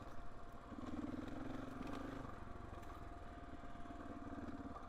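Steady mid-pitched whir of the radiator fan on a KTM 450 EXC-F dirt bike, running continuously over a low engine idle, close and fairly quiet, with no talk.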